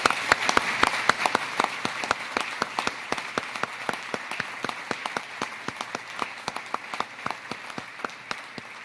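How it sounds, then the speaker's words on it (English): An audience applauds at a Naval Reactors change of command ceremony in 2024. The clapping is steady and fairly close, with many individual sharp claps running through the whole stretch at an even level. "yes, they deserve a round of applause"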